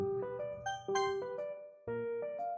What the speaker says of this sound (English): Right as I tap the end call button, the doorbell rings